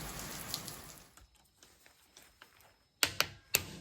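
Light rain falling on a surface during an outdoor weather moment, a steady soft patter for most of the stretch, followed by a few sharp louder knocks near the end.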